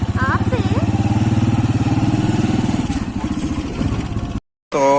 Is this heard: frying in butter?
no